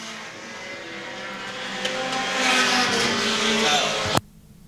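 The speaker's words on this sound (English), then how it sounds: "Erin Aiken puts the 77 of Chooch Schneid a lap down" Pure stock race cars roar around a speedway during a 30-lap night feature, a loud, continuous engine drone that swells as the pack passes close, then cuts off abruptly.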